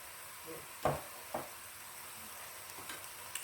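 Goat meat sizzles in a pot with garlic and ginger paste, a steady hissing fry with a few soft knocks of stirring, close and fairly quiet.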